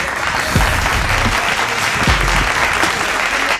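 Built-in iMovie applause sound effect, a loud dense crowd clapping that runs steadily for several seconds with a few heavier thumps underneath.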